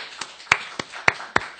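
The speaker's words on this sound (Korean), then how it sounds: "이야, 박수!" A handful of sharp, separate hand claps, about six over under two seconds, sound close and fairly quiet, as if only one or two people are clapping.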